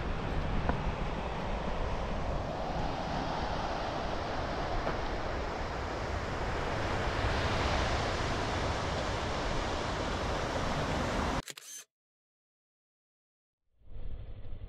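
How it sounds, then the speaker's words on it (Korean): Pacific Ocean surf heard from a distance across grassland on the coast between Nemuro and Kushiro, Hokkaido, a continuous soft roar under wind before cutting out abruptly near the end. "그리고 저 반대편에는 또 바다 소리가"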